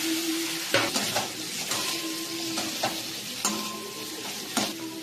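Boiled sweet potato with onion and spices is stir-fried in a pan: a steady sizzle runs under repeated scraping strokes of a spatula against the metal, with a few sharper clinks.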